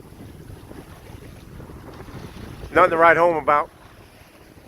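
An Oday 272 sailboat under full sail on a windy, chilly day, with wind buffeting the microphone and water rushing past the hull throughout, briefly overlaid by someone speaking.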